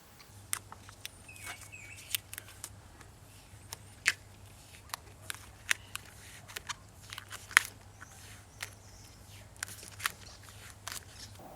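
Duplicolor Custom Wrap coating being peeled off a car door gives a long run of faint, crackly tearing, with irregular small clicks and snaps over a low steady hum.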